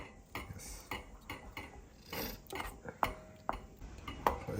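Spoon scraping and clinking in a pot as dal tadka is stirred with masala powder and salt, a series of irregular metallic taps and scrapes, fairly close, with faint background noise and no talk.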